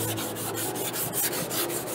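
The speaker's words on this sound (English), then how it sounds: "we're gonna go ahead and start sanding down the fender, making sure it gets ready for paint" A Toyota Tundra front fender is wet-sanded by hand with sandpaper, giving a quick, even rasping rhythm of short back-and-forth strokes, close and moderately loud, with no talk.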